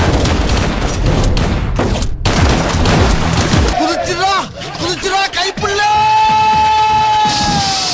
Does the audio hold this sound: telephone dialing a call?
no